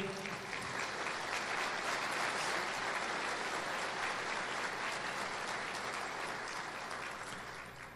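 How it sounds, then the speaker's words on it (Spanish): A crowd at a workers' gathering in La Paz applauds the chancellor, a long, dense and steady wash of clapping at a distance that slowly tapers off toward the end, with no talking over it. "Un fuerte aplauso para nuestro canciller."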